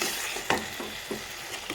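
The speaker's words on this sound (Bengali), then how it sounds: "ধনে গুঁড়ো আর জিরে গুঁড়ো, তো ভালোভাবে আমি মশলাটাকে কষিয়ে নেব" A spice paste with coriander and cumin powder being stir-fried in a pan, with a soft continuous sizzle and several distinct scraping strokes of a spatula at an uneven rhythm, close by and with no talk.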